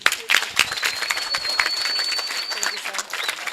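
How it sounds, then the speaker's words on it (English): A school audience claps and cheers for a student named Azania at an education event, a burst of dense applause with crowd noise filling the moment and a faint whistle-like tone running through it. "Guys, a big clap for Azania."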